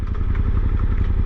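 A Suzuki 800DE motorcycle engine pulses steadily as the bike is ridden, a loud, close, even rumble with a fast throbbing beat and no break.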